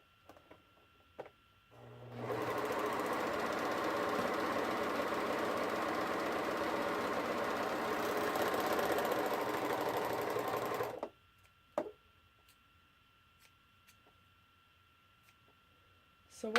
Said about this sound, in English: I'm just going to serge this edge up really quick.